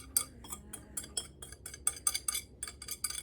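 Batter of wet ingredients folded into dry ones with a spatula, soft repeated scraping and light clinking strokes in a steady rhythm, close and quiet, with carrots, pineapple, coconut and pecans to be added later.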